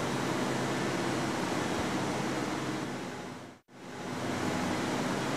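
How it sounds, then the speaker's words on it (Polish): Water pumps running steadily inside a pumping station at a water intake, a loud continuous broadband roar with a brief dropout near the end before resuming. "posłuchajmy jeszcze przez moment, jak te pompy pracują, dzięki którym mamy wodę w naszych kranach"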